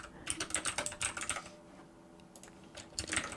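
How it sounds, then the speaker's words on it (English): Rapid typing on a computer keyboard while entering form labels, a close run of crisp key clicks in bursts with a short pause near the middle before more keystrokes. "I could type in label, and I'm going to type in favorite color."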